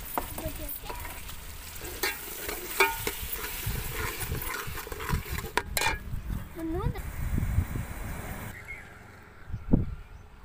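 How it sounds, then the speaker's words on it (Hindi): Tomatoes tipped into browned onions and chillies sizzle and fry as they are stirred around the pan for a village-style biryani, with scraping strokes repeating steadily and a voice talking intermittently over the cooking. "अब हम इसमें डालेंगे टमाटर वगैरह"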